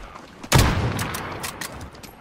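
Video game gunfire erupts as one sharp, loud shot followed by a rapid scatter of further bursts and cracks, with no talk over it.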